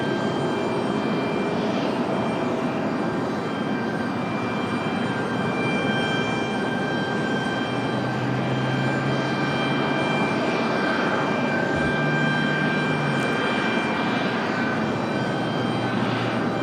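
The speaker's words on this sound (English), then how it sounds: "As FedEx finally gets a move on there with their A300" A FedEx Airbus A300 jet taxiing at Raleigh-Durham International Airport, its engines producing a loud, steady, continuous roar with a whining tone that holds evenly throughout.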